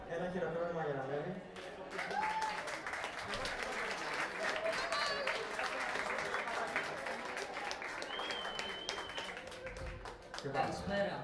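A karaoke crowd applauds steadily, a dense wash of clapping from many hands that swells and holds for several seconds before thinning out near the end.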